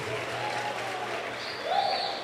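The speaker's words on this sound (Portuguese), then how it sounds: "Palmas para o Francesco de Jesus." Applause from a concert audience greets an acoustic guitarist being introduced on stage, a steady wash of clapping lasting about two seconds that swells slightly near the end.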